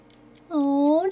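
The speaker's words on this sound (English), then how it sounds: "Oh, just a cute ticking." A clock ticks steadily at roughly four ticks per second, soft and close. Partway through, a drawn-out vocal sound rises over the ticking.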